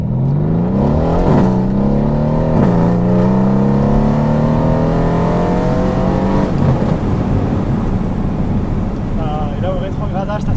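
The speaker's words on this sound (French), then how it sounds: "Profite bien de ce son de V8 qui est dingue." A Mercedes C63s AMG V8 pulls hard through rising revs and gear changes, a loud, continuous roar that climbs, drops and climbs again, with a voice partly under the engine.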